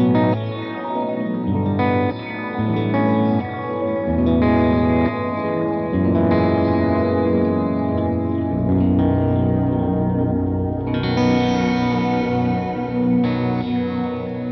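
Electric guitar chords through a BOSS TE-2 Tera Echo pedal ring out with a shimmering, swirling echo effect, notes smearing and trailing into long washy tails; loud and up close, no voices.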